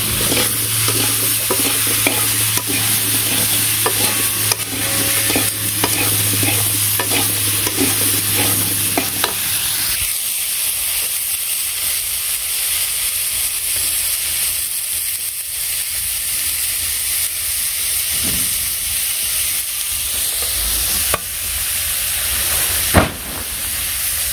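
Vegetable curry sautéed in a pan on a village stove, loud continuous sizzling and stirring with steam hiss and a low rumble early on that drops away halfway.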